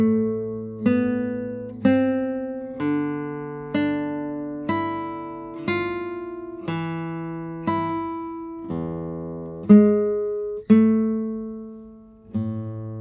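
Classical guitar playing a slow Andante, about a dozen single plucked notes and chords, each ringing and decaying evenly before the next, clean and close.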